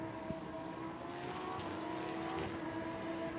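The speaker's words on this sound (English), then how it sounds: "And that car now sprints on towards the right-hander of Scene" A Lamborghini Super Trofeo race car circulates on the Paul Ricard circuit in the Lamborghini Cup, its engine a steady, fairly distant drone that holds without a sharp pass or rev spike.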